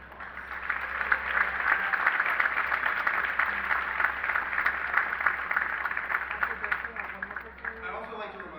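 Graduates clap at a 2025 high school graduation ceremony for an arts school, a dense, sustained wash of applause from a large crowd that stays loud and steady throughout before thinning slightly at the end.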